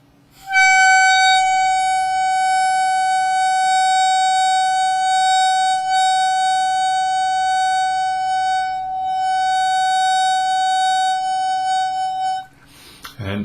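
A single sustained harmonica overblow note, held steadily and fairly loud with a rich stack of overtones for about twelve seconds, dipping briefly midway, then cut off; played softly without hard blowing.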